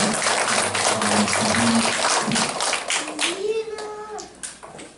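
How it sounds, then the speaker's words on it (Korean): A church congregation claps for the choir, a dense wash of applause from a crowded hall that fades toward the end, with scattered voices mixed in. "우리 찬양대원들에게 앞으로 더 잘하시라고 박수 한번 쳐주십시오"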